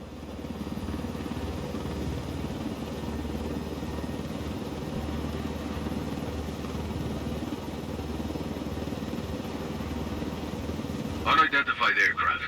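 Helicopter in Ghost Recon Wildlands flying low through a canyon, a steady close rotor and engine drone throughout, with a brief burst of sharper noise near the end.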